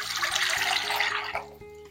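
Water runs steadily into a pot, as the first step of a rum syrup for Neapolitan babà. The stream is close and loud for over a second, then tapers off and stops.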